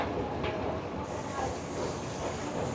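A Lyon metro train rumbles and hisses steadily nearby as it departs, a continuous rolling roar of rail noise with faint voices mixed in.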